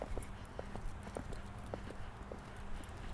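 A pony's hooves clip-clop at a steady walking rhythm during a riding lesson, faint and a little distant, with low background noise.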